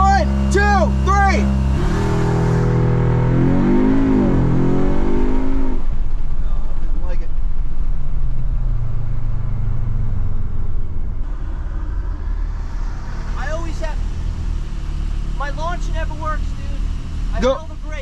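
An Audi S3 held on launch control, its engine revving up loudly and steadily for a long stretch at close range, with a voice speaking over the start.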